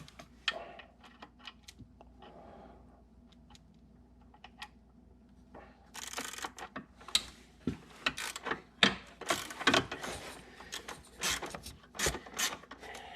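A wrench turns a bolt on a 2014 Ford Explorer during water pump removal: faint scattered scrapes at first, then a run of close, sharp metallic clicks and rasps in irregular bursts.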